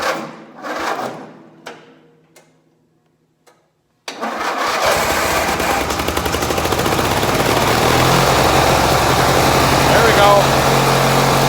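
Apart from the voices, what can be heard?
old cultivator tractor engine starting and idling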